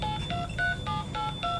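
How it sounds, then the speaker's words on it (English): Otis traction elevator at an airport terminal with its floor-passing chime stuck on, sounding a rapid run of bright electronic tones that repeat steadily and closely, fairly loud over low car and room rumble, with no talking. "The floor passing chime is stuck on."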